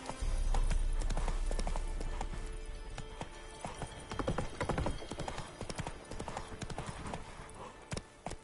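Hooves of Roach, a horse in The Witcher 3 video game, clip-clop in a steady galloping rhythm, loud and close, with a brief snort or whinny and game ambience around them.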